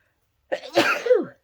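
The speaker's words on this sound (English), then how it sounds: "I'm about to sneeze." A single human sneeze, close and fairly loud, building with a short intake before a sharp burst and a trailing voiced tail, with no talk over it.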